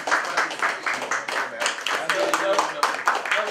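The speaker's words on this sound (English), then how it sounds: "yeah, we need to clap" Audience clapping at a talk on political change in Nigeria, a dense and fairly close patter of many hands that carries on evenly for a few seconds, with voices mixed in.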